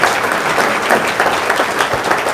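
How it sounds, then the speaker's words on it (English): Steady applause from a symposium audience honoring the panelists, dense and continuous clapping filling the room at close range without pause. "round of applause for our panelists"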